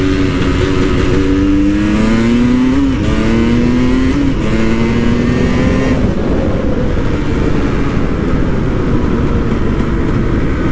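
A KTM 300 EXC two-stroke dirt bike on dirt tires rides along a road, its engine loud and close, rising in pitch through several quick gear runs before settling into a steady rasping drone.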